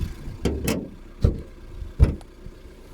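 A car engine runs low and steady, with a few sharp thumps and clunks cutting in.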